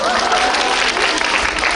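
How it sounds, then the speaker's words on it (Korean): A brief, loud burst of dense clapping from an audience at a cinema event, close and continuous for under two seconds. "박수 보내주세요."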